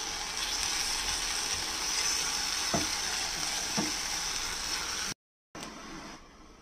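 Patiala chicken frying in a pan after hot water is poured in, giving a steady loud sizzle with a couple of soft stirring knocks, then a brief cut to silence before the sizzling resumes.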